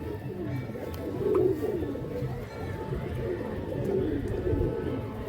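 Chennai pigeons in a loft cooing, low soft coos layered over continuous rustling and shuffling noise throughout, fairly close.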